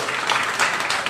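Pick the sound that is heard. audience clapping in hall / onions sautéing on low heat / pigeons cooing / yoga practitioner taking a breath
audience clapping in hall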